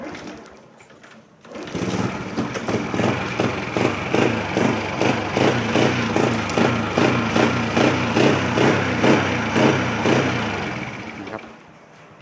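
A small engine on a vehicle parked unused for about a year fires up on the choke after a short pause and settles into a steady, rapid mechanical chugging idle, close and continuous.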